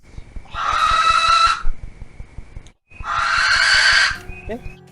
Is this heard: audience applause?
no